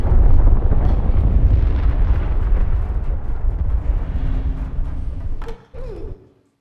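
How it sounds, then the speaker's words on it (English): An ion cannon in Split Fiction fires a loud, rumbling, sustained blast that slowly decays, then cuts off sharply and is followed by a brief whooshing sweep before silence. "Now that's a proper ion cannon."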